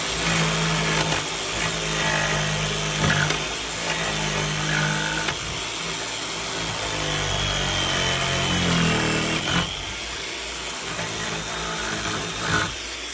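A jigsaw cuts through timber for a garden pergola build, its blade bending under pressure, giving a steady, loud buzzing drone that runs almost continuously for the whole stretch with small dips and surges in pitch.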